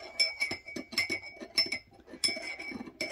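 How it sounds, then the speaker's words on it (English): Metal spoon stirring coffee in a cup, giving a string of bright, close clinks against the sides in an uneven rhythm, with no talking. "Give it a stir."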